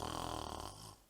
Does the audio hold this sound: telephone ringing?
no